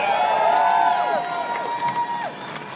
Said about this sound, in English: Give it up for Suzette Chang, everybody.